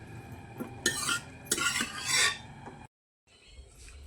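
A spoon stirring a moth bean (matki) curry in a pan for Kolhapuri misal: a few close scraping, rasping strokes with metallic scrapes against the pan, a short silent gap, then a softer sizzle, with no talk.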